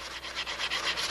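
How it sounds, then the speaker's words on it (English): Hand block sanding along the fiberglass-cloth-covered edges of a small Strega 14 boat, a steady back-and-forth rasping scrape repeated in even strokes, close and fairly quiet with no voices. "Now just a question of just patiently block sanding out"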